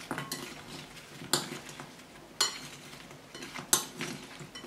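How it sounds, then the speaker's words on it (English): Drained, slightly cooled tofu being mixed around in a bowl, with soft stirring scrapes and several sharp utensil clinks against the bowl at irregular intervals. "You take your drained tofu, which is cooled slightly, pop it in the bowl, and you mix it around."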